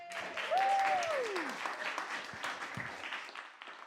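An audience applauds and cheers for a singer-performer of ukulele and autoharp, with a sustained wash of clapping and one rising-and-falling whoop early on, easing off toward the end.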